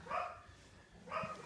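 Dogs bark indoors near a running HO scale Frisco FP7 model locomotive, two loud bark bursts roughly a second apart with a quieter gap between them.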